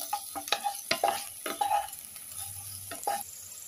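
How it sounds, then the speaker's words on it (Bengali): Fried okra is stirred in a pan with turmeric powder. Close, repeated spatula scrapes and clinks sound over a steady oil sizzle. "এতে আমি 1/2 চামচ হলুদ গুঁড়ো দিয়ে ভালো করে মিশিয়ে নেব।"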